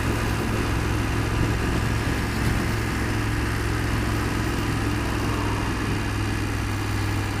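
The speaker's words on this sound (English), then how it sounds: "it's amazing how different the engine is to what I'm used to. Well, it chugs along." A BMW F750GS motorcycle engine chugs at a steady low rumble, a constant near drone that runs unbroken for the whole stretch with no talk over it.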